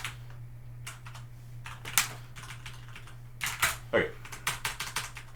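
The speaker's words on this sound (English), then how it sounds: "So you might notice that I'm typing these things" Keys clatter on a computer keyboard during a UNIX and Vim command-line lesson, with sparse taps and then quick bursts of strokes over a low electrical hum, and someone briefly says a word.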